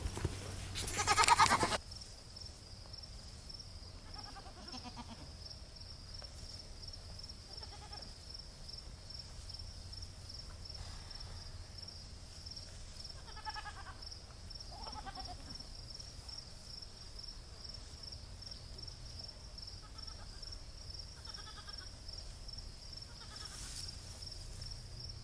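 A few scattered goat bleats on a farm, wavering and mid-distance, spread across a long stretch over a steady high insect drone, with a brief loud rustle at the start.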